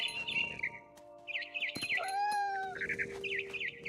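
A mother bird in the game What Remains of Edith Finch gives repeated high chirps and warbling trills against a sustained tonal hum and sweeping whistle-like tones, fairly close and clear.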